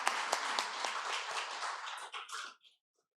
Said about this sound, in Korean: 우리 같이 한번 또 환영의 박수 해드리겠습니다.